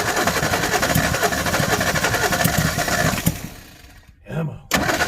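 A flooded engine in a 1961 Ford Falcon Futura that sat parked for twenty years runs rough and is revved steadily, then sputters and nearly dies before catching again.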